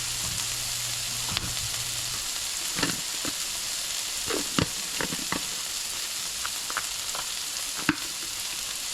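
Dried shrimp and long beans stir-frying in a hot wok, a steady close sizzle punctuated by scattered scraping clacks of the utensil against the metal, with no voices.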